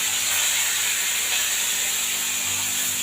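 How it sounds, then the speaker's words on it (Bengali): Fresh fish fries lightly in hot oil, making a steady, dense sizzle and hiss that stays close and even throughout. "মাছটাকে আমি হালকা একটু ভেজে নেব।"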